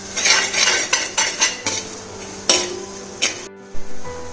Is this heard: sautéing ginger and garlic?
yes